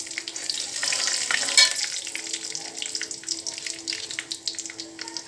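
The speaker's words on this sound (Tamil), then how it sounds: "வெந்தயம் போட்டுடலாம் வெந்தயம் நல்லா வருகட்டதும் ஜீரகம் போட்டுடலாம் வரமிளகாயும் போட்டுருவோம்" Fenugreek seeds, cumin and dried red chillies frying in hot oil for a Tamil fenugreek kuzhambu, a bright crackling sizzle that peaks briefly then settles into fluttering spits.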